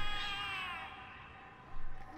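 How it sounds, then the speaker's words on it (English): Cats meowing in the horror game The Cat Lady, a drawn-out, high, wavering meow that fades, then a brief second cry, fairly clear over a low ambient hum. "The cats are alarming."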